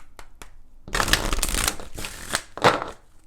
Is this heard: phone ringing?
no